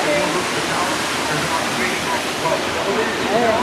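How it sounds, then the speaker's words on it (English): A man-made waterfall pours steadily, a loud, continuous rushing wash of water heard up close with no break. "So they built this waterfall over here to the right."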